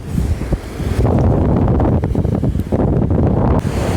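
Strong wind gusts buffet the microphone over rolling sea waves on a fishing shore, a loud, continuous roar that surges and dips with no talking.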